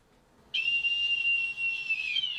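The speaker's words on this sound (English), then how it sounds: "Blow the whistle." A referee's whistle blows at the end of a football match, one long shrill blast starting suddenly and held for about two seconds, loud and close with no talking.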